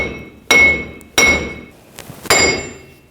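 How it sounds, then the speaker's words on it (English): Hammer blows knocking a front wheel hub assembly loose from the steering knuckle on a 2014-2018 GMC Sierra 1500: three sharp metallic strikes with ringing overtones, spaced about a second apart, close and loud with no talk. "I'm just going to give it a tap from the back side. Separate it from the knuckle."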